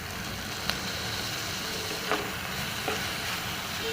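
Tomatoes sizzle and fry in a pan for dal fry, a constant hissing crackle with a few light clicks of stirring.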